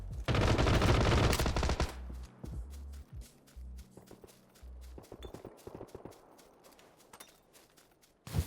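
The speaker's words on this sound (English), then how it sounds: "he's back at it there with a single tap Tommy gun firing" Loud bursts of Tommy gun fire in the PUBG battle royale game open the clip, followed by a series of sharp, spaced single shots interspersed with footsteps and clatter, with one final crack at the end.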